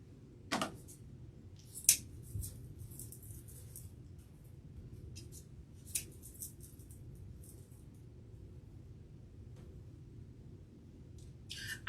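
Scissors snip the tails of a deco mesh wreath in a few sharp separate cuts spread out over a quiet low room hum, with no talking.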